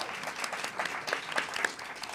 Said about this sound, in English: give another round of applause for everyone who's gone so far